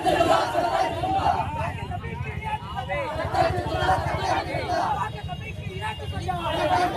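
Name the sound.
crowd of children chanting communal slogans at a protest march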